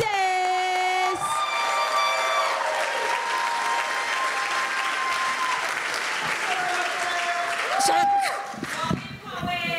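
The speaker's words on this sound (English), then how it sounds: "So I need everyone to start clapping it up right now for Justice!" Loud crowd applause and cheering fill the space continuously, with sustained whooping voices rising over the clapping throughout.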